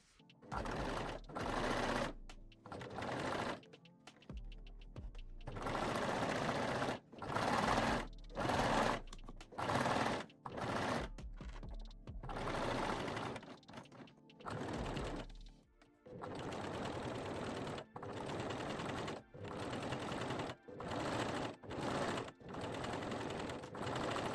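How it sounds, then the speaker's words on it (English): A serger and a cover stitch or zigzag machine sew the back seam and leg openings of lace-back Brazilian panties, running in repeated loud bursts of steady whirring separated by short pauses, with no talk. "Now sew the back center seam with the serger and the leg openings with the zigzag or cover stitch machine."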